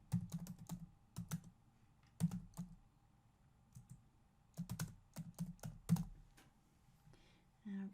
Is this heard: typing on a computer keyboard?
yes